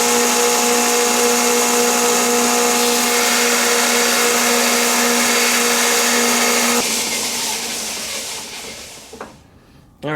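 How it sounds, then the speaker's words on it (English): A belt sander grinds a metal point flat, a loud steady whine running for several seconds, then the motor winds down and fades, with a short knock at the very end. "So we're going to use the belt sander."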